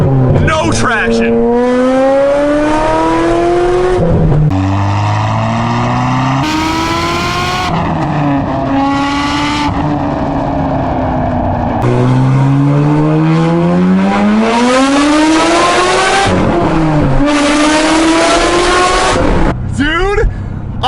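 A Corvette C6 ZR1 accelerating hard with little traction, engine roaring loud and close through repeated rising gear pulls, with tire noise, and people talking over it.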